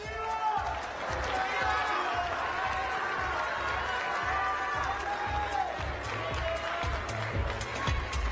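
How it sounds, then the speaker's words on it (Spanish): Applause and cheering for Miss Colombia at a national beauty pageant, a steady wash of clapping from a large crowd with scattered whoops, sustained throughout at moderate distance. "Un aplauso, por favor."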